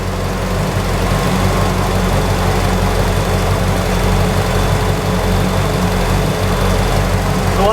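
A Pontiac GTO engine idles steadily, a loud, constant low rumble with an even throb that holds unchanged throughout.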